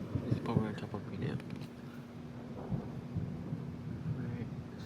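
Thunder rolls as a low rumble during a strong thunderstorm with high winds, with rain and wind noise hitting the microphone and a voice speaking briefly near the start.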